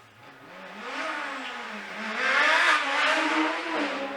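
Force TA single-seater race car with a narrow chassis climbing the Shelsley Walsh hill course, its engine note rising and falling through gear changes as it accelerates, loud and steady with no voices.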